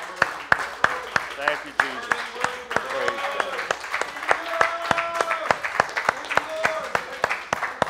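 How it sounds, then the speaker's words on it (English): A church congregation claps along during a Sunday morning service, a steady run of sharp hand claps throughout, with voices speaking and praising over the top. "Give the Lord a big hand clap this morning"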